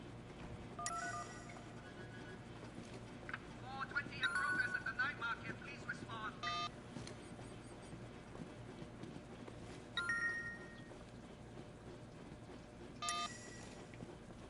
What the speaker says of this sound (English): You make another phone call here?